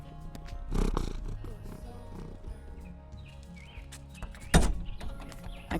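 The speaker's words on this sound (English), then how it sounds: "he's sitting here purring in my lap right now as I'm trying to record this" A cat purrs quietly in a person's lap inside a vintage U-Haul camper, a soft low rumbling throughout, broken by two louder thumping handling noises.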